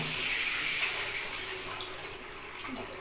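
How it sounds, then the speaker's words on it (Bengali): Water pours into a cooking pan for a fish roe sour chutney, a steady hissing splash close by that tapers off toward the end. "এবার আমি জলটা দিয়ে নিলাম"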